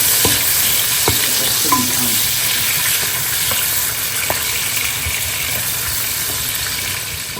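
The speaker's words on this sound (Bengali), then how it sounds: "আগে চিংড়ি মাছটা একটু ভেজে নিই" Prawns fry in a pan with a constant loud sizzle and hiss, while occasional light knocks and scrapes of stirring break through the steady frying.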